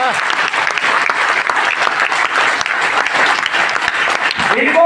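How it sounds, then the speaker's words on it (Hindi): A crowd at a motivational speech event breaks into loud, sustained applause, with many overlapping claps forming a thick, continuous roar that stays strong throughout. "आओ सर ताली बजाओ हीरो के लिए।"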